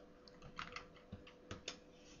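Quiet keyboard typing as a search is entered, a short run of light, irregular key taps heard close and alone.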